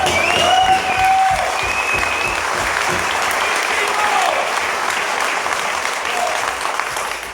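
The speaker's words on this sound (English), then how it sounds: "Give everyone a round of applause." A meeting audience claps in a sustained, dense round of applause, loud at first and then holding steady, with a few shouts and voices rising above the clapping.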